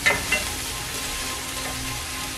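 Steady, dense sizzling of chopped garlic and ginger frying in hot oil, close and continuous with no talking.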